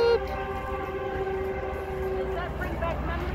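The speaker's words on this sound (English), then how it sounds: "Train! Train's coming by!" A passing train rumbles along steadily with a sustained horn-like tone, heard over outdoor crowd talk at a pumpkin and scarecrow patch.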